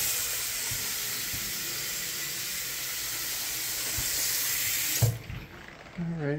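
A tap runs in the bathroom of a single-family home in Loganville, Georgia, a steady loud hiss of flowing water for about five seconds before it is shut off, followed by brief handling sounds.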